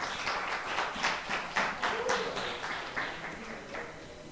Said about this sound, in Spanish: Un aplauso para Andrés.